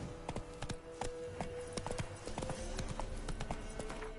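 Horse hooves clip-clop steadily through The Witcher 3, a regular trotting rhythm of close, distinct hoof strikes over a busy game soundscape with faint tonal music underneath.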